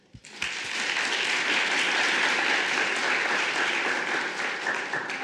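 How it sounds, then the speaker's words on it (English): Applause at a legal tech event at Slush, starting from a few isolated claps and swelling at once into a loud, dense, even burst of crowd clapping that holds steady throughout. "So another round of applause for her."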